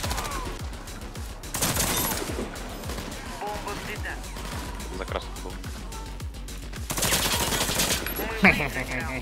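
Long-range fire from a KAC PDW in the shooter Warface: steady rapid gunshots and bursts, moderately loud, with players talking over them throughout.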